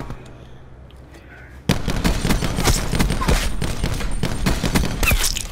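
Paladin sniper rifle fire erupts in Call of Duty Black Ops 4 multiplayer after a quiet lead-in: a dense, loud burst of repeated cracking shots and explosive reports that continues to the end.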